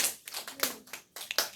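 Students in a classroom give brief, scattered applause, with quick, fairly faint claps coming in a few uneven bursts.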